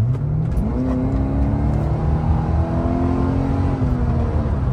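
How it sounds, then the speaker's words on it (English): Exhaust of a Brabus-tuned Mercedes S210 wagon while driving, a steady loud engine drone with rising tones as it accelerates, heard from inside the car with no talking. "on this car, at least, one of the best things about it is the exhaust"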